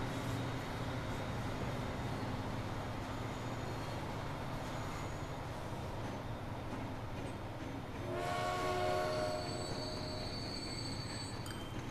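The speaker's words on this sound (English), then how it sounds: "The steam train that passed us on the tracks is the one that's closest" A steam train in the Transport Fever video game rolls along the tracks with a steady, loud rumble of wheels and carriages, then near the end a shrill wheel squeal and tonal whistle-like whine rise over the running noise.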